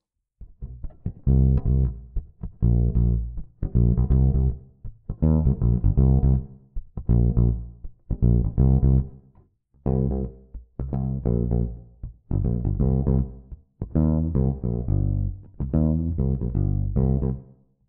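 Fretless bass played with only the neck pickup engaged gives a round, full tone: a series of sustained melodic phrases separated by short pauses, loud and close, with no talking.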